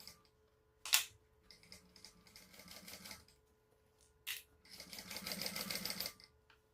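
A sewing machine stitching the seam of a fabric bag, two runs of rapid even needle chatter separated by pauses and sharp clicks, close and fairly quiet, with no talking.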